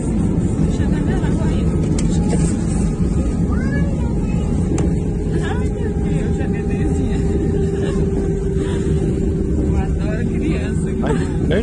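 A passenger airliner touching down on landing, heard from a cabin seat over the right wing: a loud, steady broadband rumble with roaring road-like noise that holds throughout, with voices talking over it.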